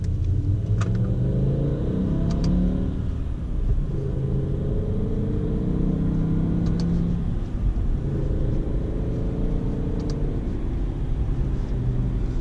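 A BMW E60 M5 with an SMG gearbox accelerates in manual mode at its slowest shift setting: a steady, loud engine drone rises and falls over several slow gear changes, with no talk.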